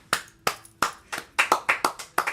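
A studio manager claps alone, about ten sharp, slightly uneven hand claps close by in a quiet room with no talking.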